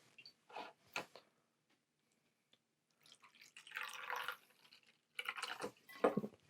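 Two ounces of vodka splash over ice for a coconut rum martini, heard as soft intermittent trickles and drips in short bursts with quiet gaps between them, close and faint.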